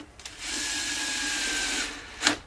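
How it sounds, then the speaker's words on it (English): A handheld power drill whirs for about one and a half seconds while reassembling the cover on a Stihl BR420 Magnum backpack blower, close and fairly loud, followed by a short second burst. "Whenever I'm using a drill here"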